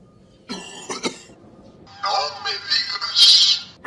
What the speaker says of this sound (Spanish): tienes una tos muy mala